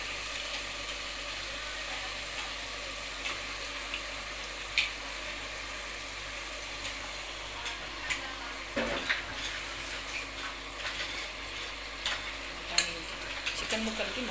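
Chicken pieces fry in oily masala while a spoon stirs them, a steady low sizzle with scattered scraping clicks of the utensil against the pan.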